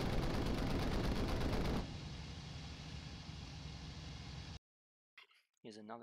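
Aircraft machine guns fire in a combat flight video game: a dense, rapid roar of gunfire, then a quieter sustained rumble that cuts to silence, with a brief voice-like sound at the end.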